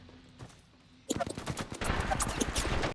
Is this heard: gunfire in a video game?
yes